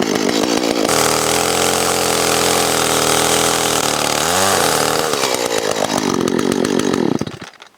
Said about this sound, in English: I'm just going to take the chainsaw, put a nice parallel cut across there,